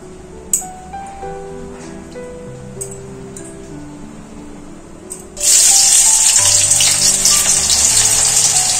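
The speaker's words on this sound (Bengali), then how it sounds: "এই পেঁয়াজগুলো একটু কম আঁচে ভাজবো" Onions frying in white oil in a wok over low heat, a loud steady sizzle bursting in suddenly and continuing after a few quieter clinks and faint background noise.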